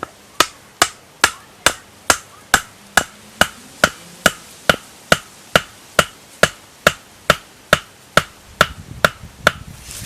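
A chamfered wooden tent peg is struck into the ground for a tarp line, about twenty sharp, evenly spaced knocks in a steady rhythm, close and loud.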